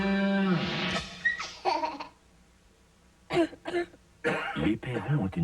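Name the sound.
cough in a cough syrup TV advert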